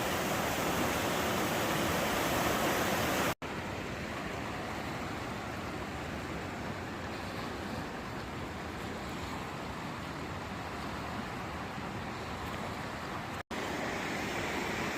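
Emerald River flows into and mixes with the glacier waters of the Kicking Horse River, a loud, steady, broadband rush of moving water that stays close and unbroken throughout, with no voices.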